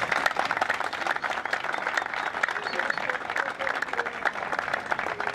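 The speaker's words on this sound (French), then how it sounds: "que je vous demande d'applaudir très fort" Crowd at a political party rally in the Democratic Republic of Congo claps and cheers in sustained, dense applause that stays loud and even throughout.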